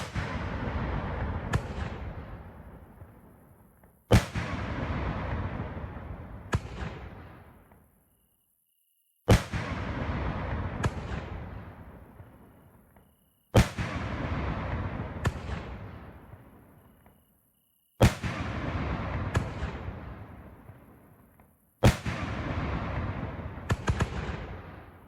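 Fireworks go off in the video game Fireworks Mania with the Wacky to Backy remake mod. Six loud bangs come in a regular rhythm, each with a crackling, decaying tail and short silent gaps between them.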